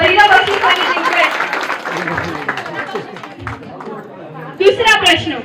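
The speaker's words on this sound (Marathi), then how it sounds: "जोरदार टाळ्या" A crowd of women at a baby shower game claps for a winning guest, bursts of applause mixed with loud chatter and voices talking throughout.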